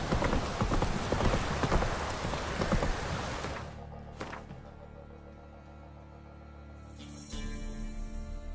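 Horse hooves clip-clop steadily in The Witcher 3, a dense trotting rhythm over rain-like ambience that suddenly drops away midway, leaving a quiet hum before sound swells again near the end.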